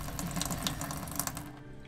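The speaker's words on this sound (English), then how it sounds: "running water." Water runs from the tap into a deep sink in a six-berth motorhome, a close bright splashing stream that cuts off abruptly near the end.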